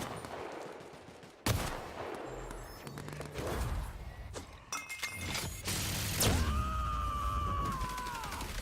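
Gunfire and shattering impacts in The Outer Worlds, dense bursts of shots and crashes with a rising sci-fi whine near the end, loud and close throughout a chaotic firefight.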